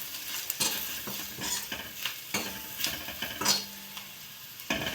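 Green peas sizzle in hot oil in a pan for paneer bhurji while a spoon stirs them, with steady crackling frying broken by frequent scraping and clinking strokes close up.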